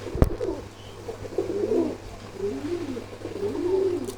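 Pigeons coo at a farm, soft throaty rolling calls repeating close by over a low steady hum, with one sharp knock near the start.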